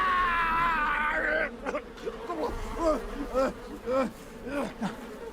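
Loud, close buzzing of bees droning at first, then giving way to a man's repeated anguished cries and groans.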